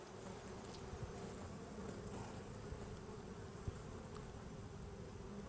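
Honey bees crowd around their queen inside a hive, giving a soft, continuous buzzing hum with occasional closer passes, quiet and steady without any voices.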